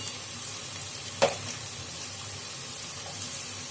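Medu vada fry in hot oil, a steady soft bubbling sizzle throughout, broken once by a short sharp clink or splash early on; nobody speaks.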